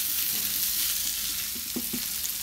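Spring onion bulbs stir-fried in a hot pan or wok for chilli paneer, giving a steady close sizzle with a few soft stirring scrapes toward the end and no talking.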